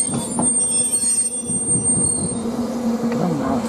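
A mountain railway train rolling close by, its wheels squealing on the rails over a continuous low mechanical rumble and clatter, loud throughout with no talk.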